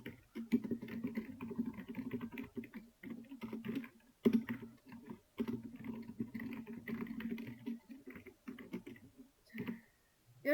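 Someone types JavaScript code on a computer keyboard, with quiet, close key clicks coming in irregular bursts separated by short pauses.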